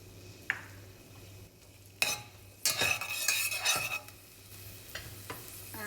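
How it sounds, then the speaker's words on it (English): Garlic sautéing in coconut oil in a pot on the stove for Trini callaloo, with quiet sizzling under several sharp scraping stirs of a utensil against the pot. "we just added some coconut oil to our pot here, and now we're going to saute our garlic"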